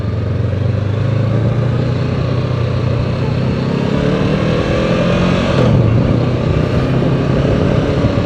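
A Honda CB650R motorcycle with e-Clutch rides in second gear, its engine giving a steady, loud drone with a slight dip in revs near the end, accompanied by wind rush.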